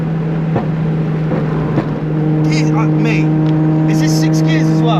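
Straight-piped Nissan Skyline R33 tuned to 650 brake on high boost, its engine droning loud and close with a strong steady hum. Brief clatter breaks in early, and sharper high-pitched revving notes rise toward the end.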